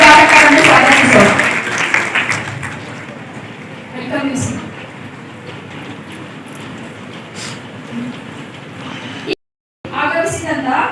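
An audience at a legal awareness and aid programme claps to welcome the inaugurator: a burst of applause at the start quickly fades into a quieter hall with scattered sounds and a few voices.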